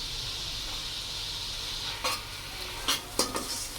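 Tinda and chana dal with salt, red chilli powder and garam masala sizzle in a pan, a steady hiss broken by a few clear scrapes and clinks as the mix is stirred.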